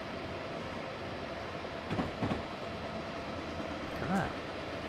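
An ACS-64 electric locomotive runs southbound to New York in Train Simulator 2016 at night, with a low, steady rumble of rolling stock and a couple of faint clanks, under quiet conditions.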